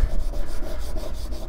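Steady abrasive rubbing as rust is scrubbed off metalwork, a continuous close scratchy friction sound with no pauses and no talking.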